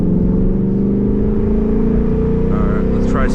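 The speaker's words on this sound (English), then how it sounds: "We'll do a second gear pull." Race car fitted with aluminum race seats pulling hard in second gear, a loud, steady engine drone with rising harmonics filling the cabin from start to finish, with brief voices near the end.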